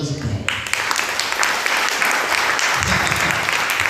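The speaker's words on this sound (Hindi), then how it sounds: "तो ताली बजा सकते हैं।" A church congregation bursts into loud, sustained clapping during a sermon, many hands applauding close and dense, with voices mixed in underneath.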